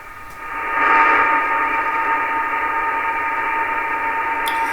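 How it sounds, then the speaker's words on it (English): A BPSK31 digital mode signal on shortwave radio sounds as a continuous steady tone with a faint warble, sitting over hissing static at fairly high level throughout. "it's kind of continuous tones with a very slight change in the frequency."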